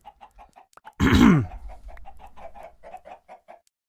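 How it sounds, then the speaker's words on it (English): Chickens in the video game Minecraft cluck in a quick series of short, soft clucks, broken by one louder squawk, heard alone without talk. "Oh, I'm under the chickens."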